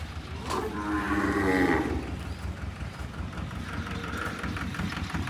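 A cow at a cow shelter in Rapar lets out a long, loud moo close by, followed by steady low rumbling background noise.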